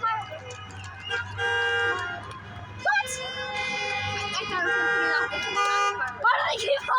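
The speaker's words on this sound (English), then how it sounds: "Why do they keep honking?" Car horns honk repeatedly during a 4th of July celebration, long sustained blasts and shorter toots overlapping at moderate distance, with people talking over them.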